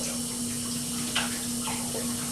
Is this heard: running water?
yes